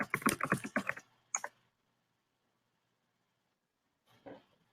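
A quick burst of typing on a computer keyboard fills the first second, followed by a single tap, a long quiet pause and another short flurry of keystrokes near the end.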